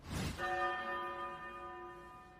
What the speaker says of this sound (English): using the remote to play a ringing bell